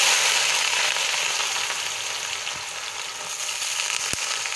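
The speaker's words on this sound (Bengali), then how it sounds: "আর একদিকে দেখো কড়ায় তেল গরম হয়ে গেছে। এবার এই তেলের মধ্যে কেটে রাখা পেঁয়াজগুলো" Chopped onions dropped into hot oil in a kadai hiss with a steady, loud, broadband sizzle that holds for several seconds with no talk, easing slightly midway and ending with a sharp click.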